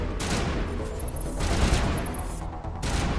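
Heavy gunfire in Mass Effect on Insanity difficulty, a dense continuous burst of shots with booming impacts, loud and close, with no talking.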